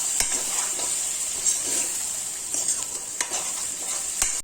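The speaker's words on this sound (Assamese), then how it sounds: "শুকান জলকীয়া সেইখিনি ইয়াতে দি দিম ভালকৈ ভাজ খাবলৈ দিম" Dried red chilies sizzle in hot oil in a pan for pork with bamboo shoots, with a steady crackling fry, clicks from a stirring utensil and no voices.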